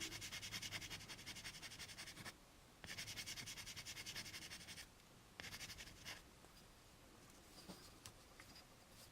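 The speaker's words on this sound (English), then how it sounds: "Sand up under here." Fine sanding on a plastic part of an AMT 1983 U.S.S. Enterprise model kit, a soft steady scratchy rubbing in back-and-forth strokes with short pauses, close and quiet, no voices.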